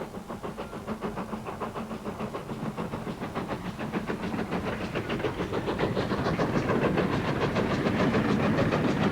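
A steam train runs with steady, rapid chuffing beats and a clattering rumble that grows gradually louder and nearer, with no talking.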